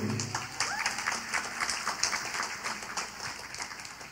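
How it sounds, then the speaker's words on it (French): An assembly applauds a newly married couple as they turn to face the gathering: moderate, steady clapping from many hands, somewhat distant and even in level from start to finish. "j'aimerais que ce couple marié, vous puissiez les applaudir"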